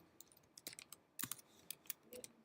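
Computer keyboard keys pressed in a quick cluster to enter a shortcut, several soft clicks and taps in an irregular burst, close but quiet, with no talking.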